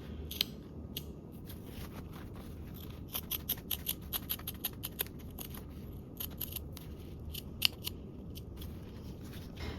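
Scissors snip repeatedly through sewing fabric close to the stitching on a small bag project, crisp quiet cuts in an irregular series over a soft background hiss.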